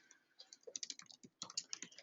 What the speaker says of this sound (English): So for me, I was just quick typing stuff in.